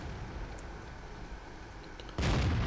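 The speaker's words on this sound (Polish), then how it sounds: "próba tutaj strzału bez pełnego skupienia" A tank cannon fires in World of Tanks from a T25/2 tank destroyer, one sudden heavy boom that rolls out loudly after a low idling rumble.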